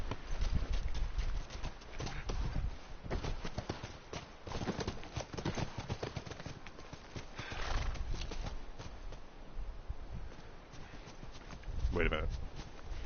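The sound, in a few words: horse hooves clip-clopping in a video game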